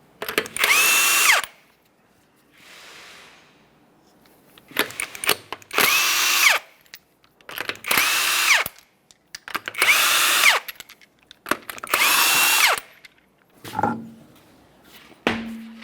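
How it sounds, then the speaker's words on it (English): A power tool spins off the 21mm lug nuts from the front wheel of a 2010-2013 Kia Forte Koup 2.4L in five loud, close bursts of whirring, each lasting one to two seconds, separated by brief pauses. "we'll continue on to removing all 5 of your 21mm lug nuts and then the wheel"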